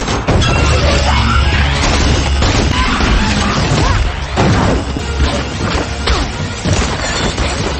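A church wall blasted apart in an action film, a loud continuous barrage of crashing, booming impacts and debris over a heavy low rumble, sustained for several seconds.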